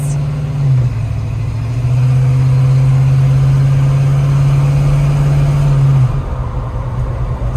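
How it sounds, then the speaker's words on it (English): A 1952 Chevrolet pickup truck accelerating up a road through its gears, with a steady loud engine drone whose pitch holds and shifts near the start and end, heard from inside the cab with no talking. "I'm just gonna take it up the road, let it go through the gears."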